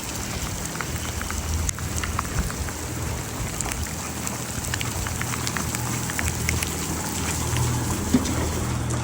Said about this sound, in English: a torrential downpour started